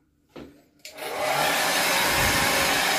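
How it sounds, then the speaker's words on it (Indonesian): A hotel bathroom hair dryer clicks on and spins up after a brief knock, then blows with a loud, steady whooshing roar close by, with no talking. "Jadi ini ada nih hair dryer."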